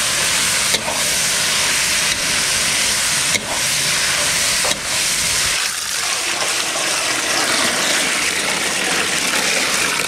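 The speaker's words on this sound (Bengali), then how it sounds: "এখন দেবো ধুয়ে রাখা চিকেন।" Washed chicken pieces dropped into a hot pan of spiced gravy set off a loud, steady, close-up hiss of sizzling steam, broken by a few brief clatters.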